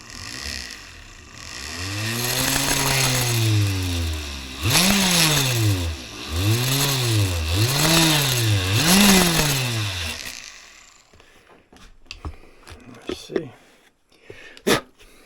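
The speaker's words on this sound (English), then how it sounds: "what do you call that, a Dremel tool motor on a flexible shaft" A Dremel-type motor on a flexible shaft drills into a banjo peghead while fitting geared tuners, its whine rising and falling in several revving swells before stopping, followed by scattered clicks and handling noises.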